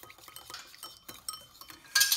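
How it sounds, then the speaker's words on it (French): A utensil stirs egg yolk into cream in a bowl for a blanquette de veau, giving soft intermittent scrapes and light clinks that end in a brighter clink, close and quiet, with no talking. "Dans ma crème qui est là, je vais jeter mon jaune d'œuf que je vais mélanger."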